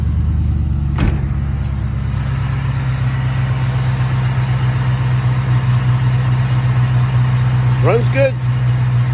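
A fuel-injected LS V8 swapped into a 1951 Hudson idles smoothly and steadily up close, a continuous low rumble with a short thump early on and a brief squeak near the end.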